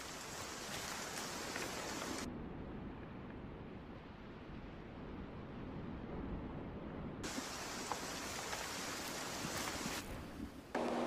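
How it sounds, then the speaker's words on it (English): Heavy rain falling in the hunting game Way of the Hunter during a storm, a steady dense hiss that carries on throughout, with the upper wash dropping away in the middle and returning toward the end. "the cherry on top being the heavy rain, which is honestly just perfect in this game"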